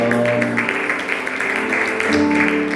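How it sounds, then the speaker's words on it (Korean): A church youth congregation claps for God during a Korean middle and high school worship service, steady crowd applause lasting throughout, blended with sustained music. "우리 하나님께 영광의 박수 올려드립시다."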